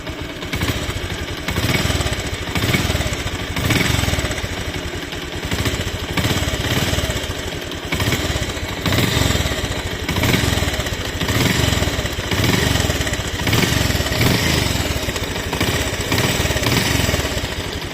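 A Bajaj Pulsar UG3 motorcycle engine with a slightly loose timing chain runs steadily and loudly at close range, a continuous throbbing idle with rapid, even pulses and no talk over it.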